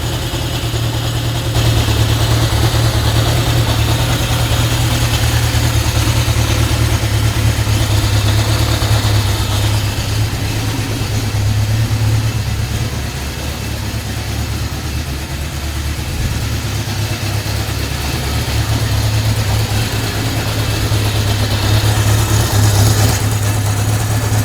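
A 1971 Honda CB750 four-cylinder motorcycle with replacement carbs and coils idles steadily nearby, a loud, even low rumble with a regular popping pulse from all four cylinders, running alone without voices.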